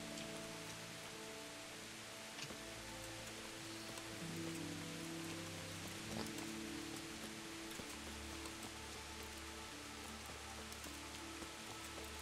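Steady rain patters softly and continuously, a faint even hiss with scattered drops, no voices, in a video game.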